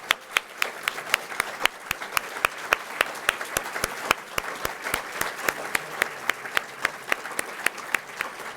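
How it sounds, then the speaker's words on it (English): An evening audience at a city mayoral candidate forum gives the candidates a round of applause, a steady wash of clapping with a few sharp, regular claps standing out close by, sustained throughout without talk. "so let's give them a nice round of applause."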